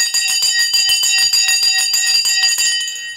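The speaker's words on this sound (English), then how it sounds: "You've just rang the bell." A bell rings rapidly and continuously during a live stock market stream, a bright, insistent ringing lasting about three seconds, loud and close with no talk over it.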